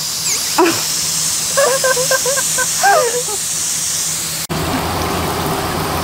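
Water sprayed over a Toyota RAV4 to mimic rain makes a steady hiss, joined midway by a few short voiced yelps or calls, then turns into a rougher, heavier spatter after an abrupt cut.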